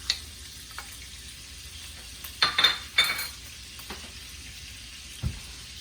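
Salted butter, about two tablespoons, sizzles softly in a wok beneath a low steady hiss, while a few sharp clinks and scrapes of a utensil against the pan stand out at irregular moments.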